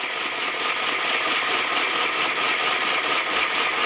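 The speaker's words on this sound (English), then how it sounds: "the steam coming out the exhaust pipe, it's blowing the right way" Steam hisses steadily from the exhaust pipe of a scratch-built gauge 1 live steam locomotive running with its burner lit, a close, even rushing noise with no talk over it.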